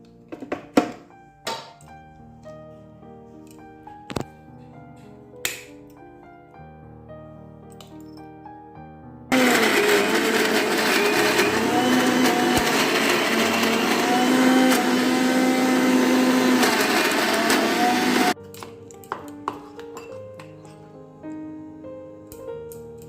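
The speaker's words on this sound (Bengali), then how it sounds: "এবার আমি এটা বসে দিলাম মিক্সিতে।" A kitchen mixer grinder whirs loudly for about nine seconds as it grinds fried ingredients into a paste, a steady high-pitched motor roar that starts abruptly and cuts off sharply, with quiet clinks and handling before and after.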